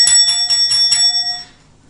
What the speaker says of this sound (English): that deserves the bell.